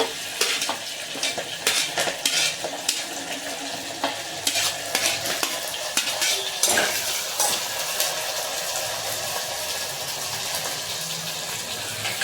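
Green chillies and curry leaves fry in oil with onion pieces, making a constant crackling sizzle punctuated by repeated spoon scrapes and clinks against the pan.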